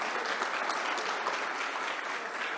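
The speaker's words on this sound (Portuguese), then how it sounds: "Uma salva de palmas" Audience applause, a dense, steady clapping from many hands, moderately loud and continuous throughout.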